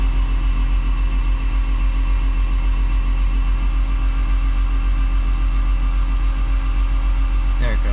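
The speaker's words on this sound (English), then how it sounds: "Let's crank it some more." A Honda D16Y8 engine in an EK coupe cranks with a loud, close, continuous mechanical churn that holds steady throughout, without a pause or break.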